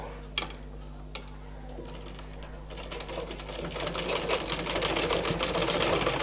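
A sewing machine stitches a thin cord onto a back neck design, starting with a couple of sharp clicks before the needle settles into a fast, rhythmic chatter that grows louder and steadier, close up with no talk.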